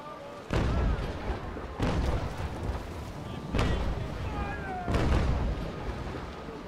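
Cannon broadside fire in the naval sailing game Naval Action: four heavy booming volleys roughly a second apart, each a loud rumbling blast with crackling tails, over continuous sea and wind noise.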